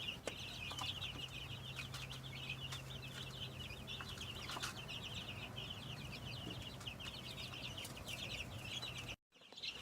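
Week-old white Cornish Rock broiler chicks chirp and peep continuously in a homestead brooder, a dense, fairly faint chorus of overlapping high calls with no voices, cutting off abruptly at the end.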